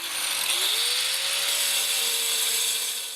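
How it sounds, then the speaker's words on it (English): A diamond-bladed circular saw or grinder cuts through stone in an outdoor sculptor's workspace, giving a steady, loud, continuous high whine with a rising tonal pitch that holds for the whole stretch. "I use mainly diamond-bladed circular saws and grinders"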